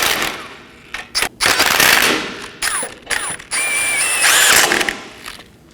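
A ratchet snugs down the ball joint bolt and two fasteners on a 2020-2027 Toyota Corolla, making loud, close bursts of rapid clicking broken by short pauses, with some squeaky metallic scraping.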